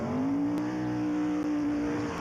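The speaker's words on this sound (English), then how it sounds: "a good strong burnout there from Steve Raven" A modified drag racing car does a burnout at a drag strip, a sustained, steady engine drone held at one pitch with a faint tire-scrub hiss underneath.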